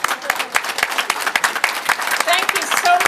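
Warm applause from a room of guests honoring Margaret Wagner's family, with crisp individual claps clustered close together and voices murmuring underneath toward the end.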